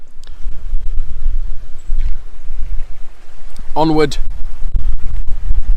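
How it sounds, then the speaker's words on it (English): Strong wind buffeting an outdoor microphone at King Arthur's Castle, a rainy coastal castle site in the UK, a loud, constant low roar with gusty surges, while someone says a brief word partway through. "Now I've had to do this bit in voiceover because it's so windy."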